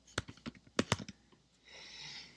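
Quick bursts of typing on a computer keyboard while HTML is entered, a handful of close, sharp key clicks in an uneven rhythm, followed by a steadier hiss of soft background noise.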